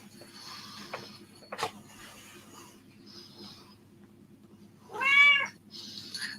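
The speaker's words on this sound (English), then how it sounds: "Here's the putty cat." A cat gives one clear, fairly close meow near the end, after quiet rustling and a few light knocks.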